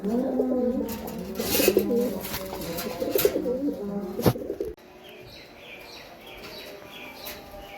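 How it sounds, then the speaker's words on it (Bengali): A pair of pigeons, a Bagha-style bird and a slightly red-necked Jabra, coo softly and repeatedly at a bird market. Chirps and bustling noise sit underneath and fade quieter partway through. "এটা হইতাছে বাঘা স্টাইলের কবুতর, আর এটা হইতাছে জাবরা কবুতর"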